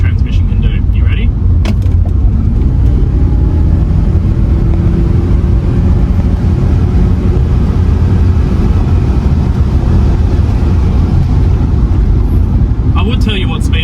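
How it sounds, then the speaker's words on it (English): A 2003 Audi A4 B6 with a 96 kW engine and CVT accelerating on a straight road, heard from inside as a steady, loud, droning engine hum that holds throughout with little change in pitch. "let's see what this 96 kilowatt engine paired to this CVT transmission can do"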